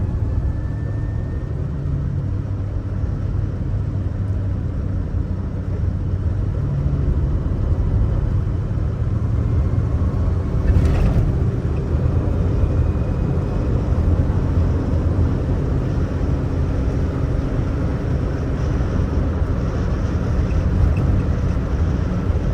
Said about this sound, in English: engine sounds lovely, just a low rumble from the Fireball V8